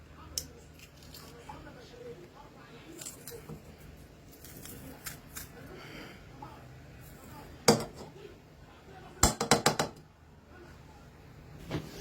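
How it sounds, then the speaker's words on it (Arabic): Garlic cloves crushed by hand with a masher for Egyptian fatta, giving soft intermittent squishing and crunching with a few sharp clacks of the tool, close up and fairly quiet. "طبعا احنا محتاجين شويه توم كده، هعملهم بالهراسه زي ما انتم شايفين، هرسه التوم دي"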